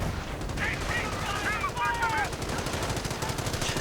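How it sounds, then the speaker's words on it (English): Heavy machine gun fire in a WWII real-time strategy game during a 2v2 match, a steady dense clatter of rapid shots running throughout, with faint battle noise behind. "getting under fire from the heavy machine gun of Imara"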